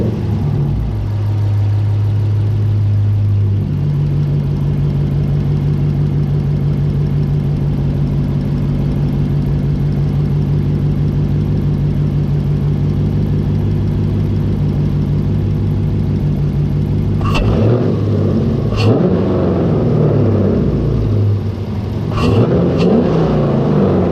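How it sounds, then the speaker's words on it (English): Car engine fitted with a Legmaker cold air intake idles steadily and loudly up close, then gets several sharp revs near the end, each rising and falling back to idle. "I'm gonna crank it up, give you a couple revs and let you guys hear how it sounds."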